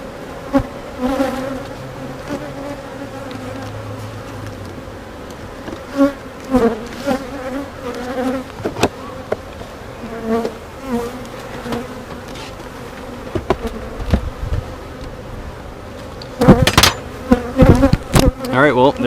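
A honeybee colony buzzing around an open hive on a farm, a continuous droning hum with individual bees zipping past nearby and some knocks and clatter toward the end, with no talking.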